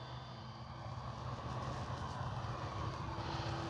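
Electric motor of an FMS T-28D Trojan 1.4 m RC warbird on 4S with an 80 amp ESC, a faint distant hum in flight that changes as the throttle is pulled back.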